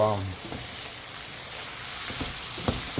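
Food frying and being stirred in a hot pan for green chicken tamales, a dense continuous sizzle up close with faint stirring scrapes underneath.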